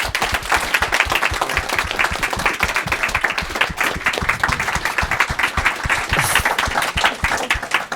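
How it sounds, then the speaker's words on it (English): A crowd at a film premiere Q&A gives a round of applause, a steady stream of close, crisp hand claps with distinct individual hits lasting several seconds. "I think everybody that's involved in this deserve a huge round of applause"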